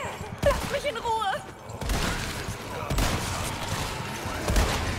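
Gunfire in the video game Resident Evil 4 Remake, a few sharp shots and impacts amid game noise, with an excited voice talking over the start.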